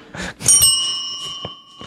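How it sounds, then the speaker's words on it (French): Several small bells ring together, bright tones struck at once and held, with a few quieter strikes after, close and clear with brief noise before. "Une chorale de cloche."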